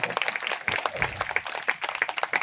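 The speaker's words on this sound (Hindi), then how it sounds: "आप जोरदार तालियों से अभिनंदन कर दें इस चीज का" Applause from an audience at a Hindi-speaking religious gathering with a guru, dense irregular clapping with sharp peaks, fairly close and moderately loud, running steadily for a couple of seconds.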